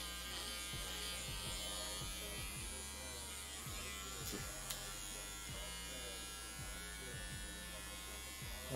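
An electric hair clipper buzzes steadily through a home haircut, its close, constant drone broken by regular rhythmic pulses as the blades pass through the hair, with faint voices in the background.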